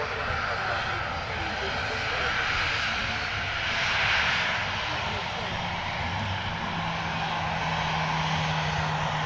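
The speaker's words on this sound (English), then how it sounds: "And the Emirates A380 now lining up on the runway." Engines of an Emirates Airbus A380 lining up on the runway at Manchester Airport, a loud, steady jet roar sustained throughout with a faint low hum emerging near the end.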